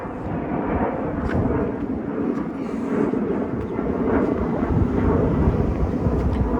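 An airplane roars low overhead near an airport in Howard Beach, Queens, a broad steady rumble that grows slightly louder as it passes during a street walk.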